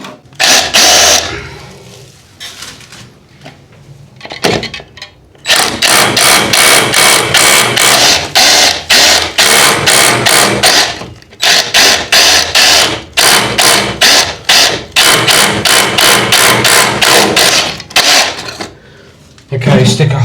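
Power drill boring a hole all the way through a wall in a powder room renovation, loud repeated bursts of whirring and grinding in close succession, with short pauses between them.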